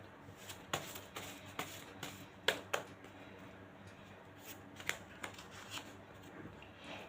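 A tarot deck shuffled by hand during a reading, giving soft, close riffles and light card slaps at irregular intervals, fairly quiet over a faint steady background hiss.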